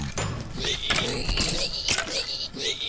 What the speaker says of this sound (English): I didn't set the vacuum chest to export. That's going to be loud.